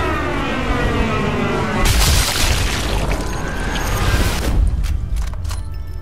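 A loud explosion in the World War II sniper video game Sniper Elite V2 Remastered, a broad booming blast that swells near the two-second mark and rumbles on over continuous game noise.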